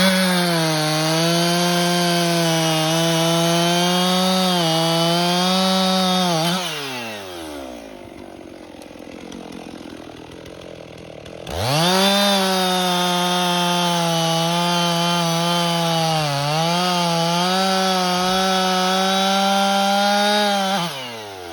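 A chainsaw cuts up a large fallen tree branch blocking a path, running at a steady loud whine for several seconds, dropping to idle briefly, then revving back up for another sustained cut, with no talking.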